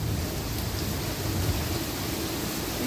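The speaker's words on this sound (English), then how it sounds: "You look at the rain." Steady rain pours down during a Wisconsin thunderstorm, a dense, even hiss with no clear thunder claps, close and constant throughout.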